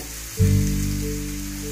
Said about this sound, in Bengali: দেখবেন এখন মাছটা আমি এর মধ্যে ভাজবো, দরকার পড়লে একটু তেল দেব